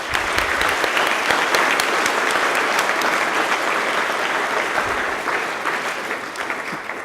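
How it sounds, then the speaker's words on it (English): A college awards ceremony crowd gives a sustained round of applause for honored colleagues, dense steady clapping filling the room alone before slowly tapering off near the end. "Perhaps we could just give them a round of applause."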